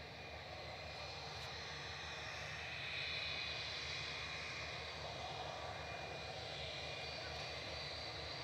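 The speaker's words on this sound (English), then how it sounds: "Ryanair heading off to Palma de Mallorca, operated by Lauda Europe, 9HLOW, A320." A Ryanair Airbus A320 operated by Lauda Europe departs Manchester Airport for Palma de Mallorca, a steady broad engine roar at moderate distance that swells slightly midway and holds through, with faint background noise.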